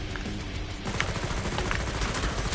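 Rapid gunfire from weapons in the video game Killing Floor 2, a dense stream of overlapping shots that grows louder and more continuous after the first second, fairly close and with no talking.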